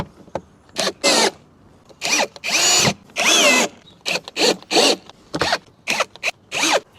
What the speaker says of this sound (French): vous venez visser votre vis dedans.